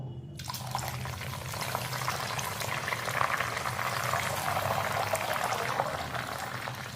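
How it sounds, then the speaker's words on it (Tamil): Onion juice and gooseberry juice poured into hot coconut oil boil and sizzle in a pan, a dense, continuous, loud bubbling hiss that holds steady throughout with no speech. "இப்போ எண்ணெயோட வெங்காயச்சாரும் நெல்லிக்காய்ச்சாரும் நல்லா கொதிச்சுக்கிட்டு வருது."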